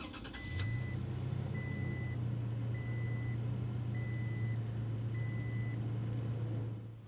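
A key turns in a 2016 Toyota Tacoma SR5 pickup. The engine catches quickly and settles into a steady, low idle rumble, while a soft chime repeats at an even pace above it.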